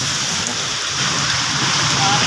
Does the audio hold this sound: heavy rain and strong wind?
yes